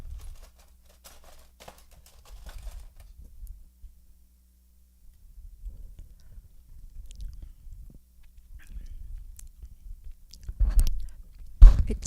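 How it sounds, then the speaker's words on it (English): Someone tasting a honey mustard sauce for a copycat chicken recipe with bacon, with soft close chewing and mouth sounds in scattered bursts amid quiet, ending with a louder handling noise. "I'm going to taste it real fast, make sure we have enough of the right ingredients in it."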